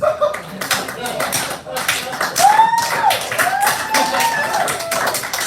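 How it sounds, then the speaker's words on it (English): Slow clapping at an informal talk: a series of separate hand claps at an unhurried pace, close and moderately loud, with voices murmuring in the background. "I'm going to slow clap."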